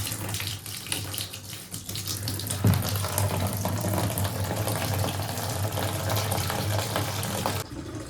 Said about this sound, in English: I love washing vehicles